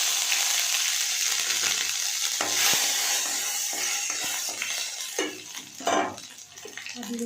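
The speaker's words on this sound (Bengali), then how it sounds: "তেলটা গরম হয়ে গেছে, দিয়ে দেবো হচ্ছে 5 ফোড়ন আর শুকনো লঙ্কা" Panch phoron spices and dry red chillies dropped into hot oil, giving a strong continuous sizzle, with a utensil scraping and clinking against the pan and a brief burst of spattering toward the end.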